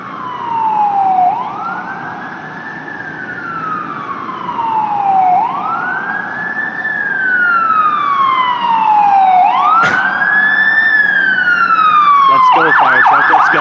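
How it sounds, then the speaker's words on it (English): A fire truck siren wailing on a Toronto street at a signalized intersection, loud slow rising-and-falling sweeps repeating about every four seconds, ending in a rapid yelp burst, with traffic rumble beneath. "There's a fire truck incoming."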